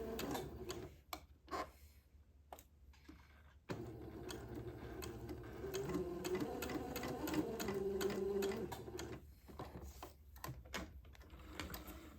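Sewing machine stitching a facing onto a baby diaper shirt with a 1/8 inch seam allowance, running in short bursts and then a long steady whirring stretch, close and clear with no talk.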